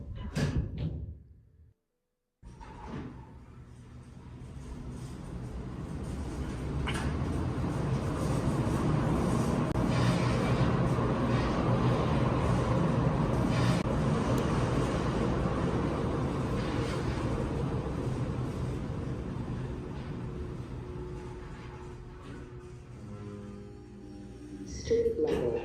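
Steady low rumbling hum of a video game elevator car travelling upward, loud and sustained for most of its length after a short gap of silence near the start, with faint clunks and a soft whoosh.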